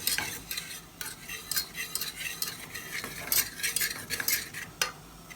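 A spoon stirs flour into melted butter in a pan for a béchamel base, giving repeated scraping strokes against the metal in an uneven rhythm over a faint sizzle, close and clear.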